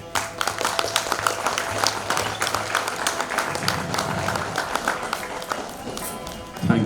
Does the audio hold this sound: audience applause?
yes